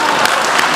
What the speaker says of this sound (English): let's give that guy a hand clap.